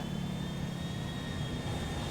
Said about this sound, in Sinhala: guys plane එකක් එනවා